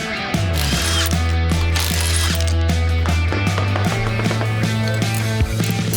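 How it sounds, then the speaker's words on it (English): A ratchet or impact tool works on the wheel lug nuts of a Toyota 4Runner, making a loud continuous mechanical whir with shifting pitch and clicking pawl textures, close up and with no speech. "We're gonna be removing these tires, installing the new ones"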